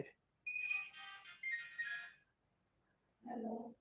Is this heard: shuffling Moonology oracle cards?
no